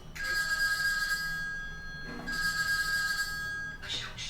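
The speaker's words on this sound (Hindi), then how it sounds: "किसी का फोन आ रहा है क्या?" An electronic phone ring sounds twice in steady tones during a live public show broadcast, followed by the start of a third, with quiet background noise between the rings.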